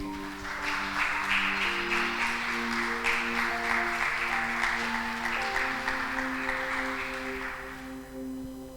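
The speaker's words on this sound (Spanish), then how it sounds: "Dale un aplauso al Señor." Church congregation applauding during a Spanish-language sermon, a sustained wash of clapping over held organ or keyboard chords, fading slightly toward the end.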